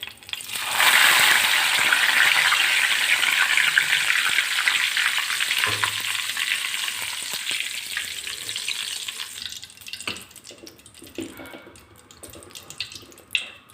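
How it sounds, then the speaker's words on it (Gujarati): Loud, steady sizzling of curry leaves frying in hot oil, fading gradually toward the end with a few faint clinks. "મીઠા લીમડાના પાન લીધેલા છે તો એ આપણે અત્યારે તળી લઈશું"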